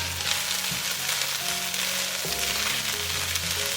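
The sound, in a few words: stir-frying garlic and dried preserved mustard greens in pork fat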